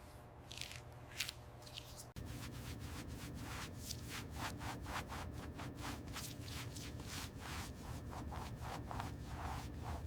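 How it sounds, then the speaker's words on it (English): A microfiber cloth wipes across the paint of a classic Chevrolet Z28, giving repeated soft rubbing swipes in a steady rhythm, close and fairly quiet, with no talking. "Watch as the microfiber lifts the dirt away, leaving a flawless finish on this beautiful Z28"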